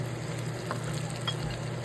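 Salted onions frying in a pan for bagara rice give a continuous quiet sizzle, with a couple of faint spoon strokes through it and no voices.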